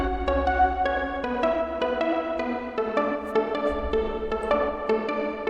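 A bright synth pluck arpeggio built in FL Studio from copied chords, using pluck presets from Flex and MHA's Vital Soundbank Volume 2, ripples in fast even notes over a low sustained bass, with no voices.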